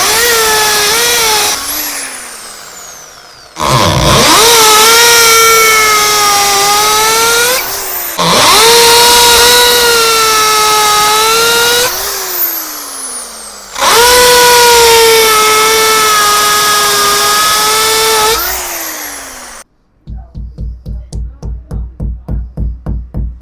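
A power drill fitted with an 8 mm bit bores into a wall, running in long, loud, high-pitched whining bursts that pitch down at each stop, followed by a short run of rapid rhythmic clicking.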